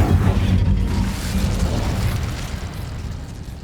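A fiery Incendio spell blasts out in Hogwarts Legacy, a loud, rumbling burst that swells at once and then rolls on as a sustained roar, slowly fading over a few seconds with no voices over it.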